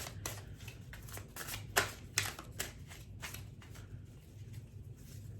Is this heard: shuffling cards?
yes